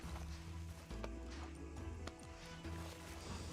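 Horse hooves from Red Dead Redemption 2 clip-clop in a steady walking rhythm, moderately close, over a low background hum with no talk.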